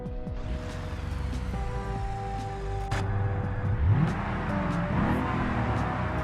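A V8 Presidential Limo in BeamNG Drive drives steadily, its engine droning and rising in pitch as it accelerates, loud and continuous with no talk.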